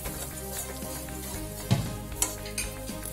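Pea filling for kachori being stirred and sautéed in a pan with salt and sugar, a soft continuous sizzle with a few scraping clinks of the spatula, close and moderately quiet.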